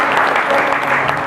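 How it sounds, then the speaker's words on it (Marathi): An audience at an outdoor cultural programme bursts into steady, dense clapping, loud and sustained throughout with no pauses. "तुम्ही एकदा जोरदार टाळ्या वाजवा."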